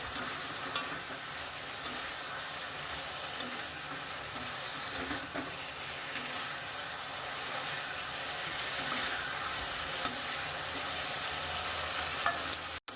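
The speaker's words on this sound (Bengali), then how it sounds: "এরপরেই এর মধ্যে মিশিয়ে দিতে হবে ভেজে রাখা চিকেনগুলো এবং এটাকে ভালো করে মিশিয়ে নিতে হবে 3 থেকে 4 মিনিট" Fried chicken stirred into a sizzling pan for a honey garlic chicken dish: a quiet, continuous sizzle with repeated light scrapes and taps of a spatula at irregular intervals, ending in an abrupt cut.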